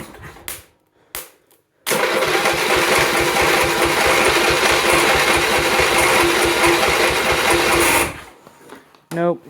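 The 8hp engine of a John Deere 110 lawn tractor is cranked by its starter for about six seconds, a fast rhythmic whirring churn that never catches, with short bursts of noise before and after.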